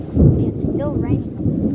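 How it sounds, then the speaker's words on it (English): A thunderstorm with rain brings a heavy low rumble of thunder rolling close, with a voice briefly heard over it. "You can hear that thunderstorm."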